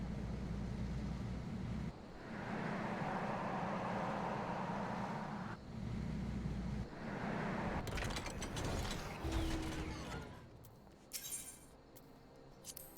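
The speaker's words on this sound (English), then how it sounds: "I love the spinning turbines." Spinning turbine machinery in Final Fantasy XIV whirs and grinds with ratcheting, gear-like clatter, a steady mechanical drone that shifts into busier clanking toward the end.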